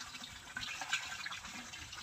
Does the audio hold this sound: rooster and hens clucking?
no